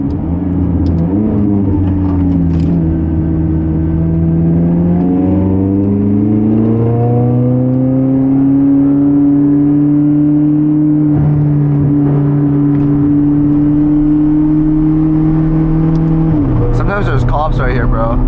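A car accelerating onto a freeway, its engine note rising steadily and holding a loud, sustained drone for most of the stretch, then dropping off near the end as a voice speaks.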